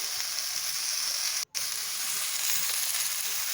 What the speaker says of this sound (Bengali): এটা সুন্দরভাবে ভেজে নিতে হবে